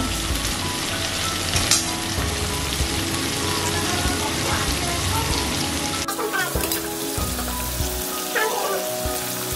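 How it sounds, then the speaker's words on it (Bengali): Paneer frying in a pan gives a loud, steady sizzle throughout, with crackling bursts and a few stirring scrapes, close up and with no talking. "হালকা একটু ভেজে নেব।"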